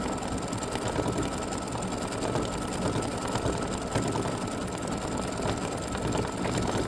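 An embroidery machine runs steadily, stitching the body of a freestanding lace spider earring, its dense mechanical whir continuous and close throughout with no talk.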